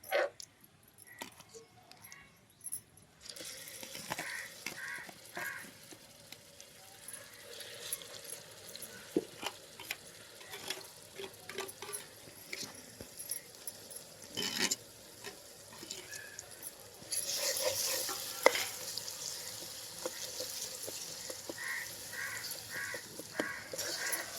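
A spinach, garlic and chili paste fries quietly in a pan, with a faint crackle, scattered scraping stir clicks and a brief louder burst near the end, all low and without talk.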